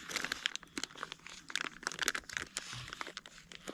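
Plastic packaging around an almost one-pound center-cut Oklahoma-raised bison filet mignon crinkles and tears as it is opened, close and soft with many small crackles and no talk.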